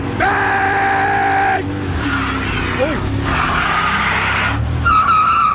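Pickup truck revving hard before a neutral drop, then tires squeal and skid while the engine note drops and rises again, loud and close, with voices shouting underneath.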